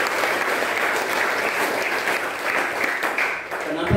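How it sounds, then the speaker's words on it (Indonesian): A Catholic congregation at a Mass in a church claps for the new parish priest, a thick, sustained round of applause that stays even throughout and tapers near the end. "Kita tepuk tangan Pastor."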